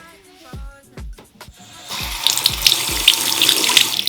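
Water running from a bathroom sink tap, splashing steadily as hands scoop it up to wet the face, close and fairly loud, with a few soft knocks and movements just before it starts.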